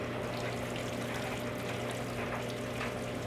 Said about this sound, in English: I can rinse my hands in the water that is pouring into my washing machine.